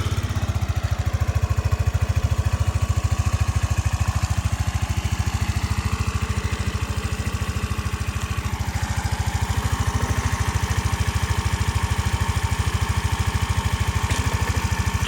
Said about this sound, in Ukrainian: чисто, рівненько, без ніяких там плаваючих обертів працює двигунчик